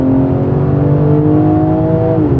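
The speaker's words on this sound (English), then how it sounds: "Let me actually give it some gas and comfort." BMW G80 M3 fitted with a 4-inch midpipe accelerating in comfort mode, a loud steady engine drone with rising harmonic tones building smoothly and continuously, heard from inside the car with no talk.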